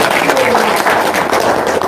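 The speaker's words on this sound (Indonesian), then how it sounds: "Tepuk tangan dulu dong." An audience at a talk applauds in a dense, loud wash of clapping that fills the short moment from start to end.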